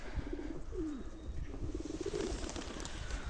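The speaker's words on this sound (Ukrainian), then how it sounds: "Ось наші друзі голубі." Pigeons coo in soft, low, rolling calls close by, repeated several times over a steady hiss of outdoor background noise on a snowy, sub-zero winter day in Kharkiv.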